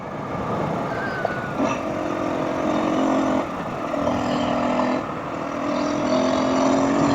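A 2022 Husqvarna FE 350s dirt bike accelerating hard uphill on a loose dirt straight, its engine note droning steadily and surging in waves from close by, with wind rush over the top.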